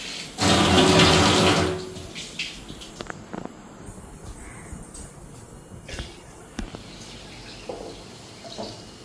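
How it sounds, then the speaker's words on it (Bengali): Water gushes loudly for about a second and a half after a water pump is switched on, then drops off to quieter trickling and faint clatter nearby. "ওদিকে জলের সুইচও দিয়ে দিছি।"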